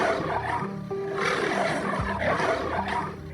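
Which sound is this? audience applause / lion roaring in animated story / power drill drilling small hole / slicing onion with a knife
lion roaring in animated story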